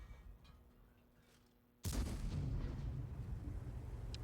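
A tank cannon booms once in World of Tanks on the Prokhorovka map, the Chrysler K firing a single loud blast that cuts in abruptly after quiet engine rumble, followed by a sustained roaring tail of rumble and debris.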